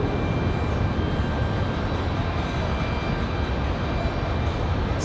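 An airliner taking off from runway 23 left at Raleigh-Durham International Airport, a loud steady broadband engine roar that holds constant throughout, close and unbroken.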